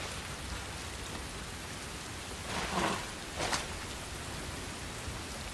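Steady, close rain hiss from a Final Fantasy VII video game cutscene, falling evenly with two brief louder gusts or splashes midway.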